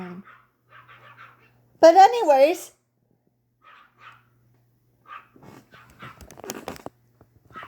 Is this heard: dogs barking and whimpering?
yes